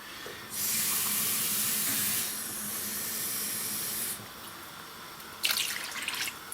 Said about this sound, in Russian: Просто чистой холодной воды добавляем.